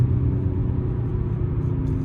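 A modified supercharged Audi S4 pulling hard under acceleration, a loud, steady low engine rumble heard from inside the car, with no talking.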